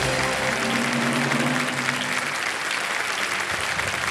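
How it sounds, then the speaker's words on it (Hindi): Studio audience applause fills a game-show set, a dense sustained clapping crowd that stays loud and steady throughout, easing slightly toward the end. "जी हाँ बिल्कुल सही है, ताली बजा दो।"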